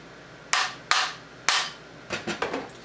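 A hammer-style kinetic bullet puller is struck against a hard surface to knock loose bullets: three sharp, loud whacks about half a second apart, then three quicker, lighter taps, with nothing else heard.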